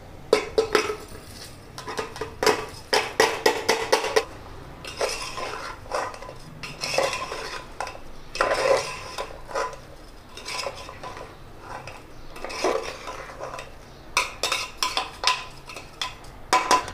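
Rice and lentils are poured into a pressure cooker pot, with metallic clinks, scrapes and rattling of utensils against the pot in uneven, close bursts.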